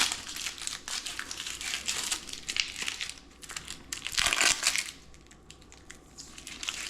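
A knife slices through an onion with crisp, crunchy cuts and crackling bursts, close and fairly loud, with no voices.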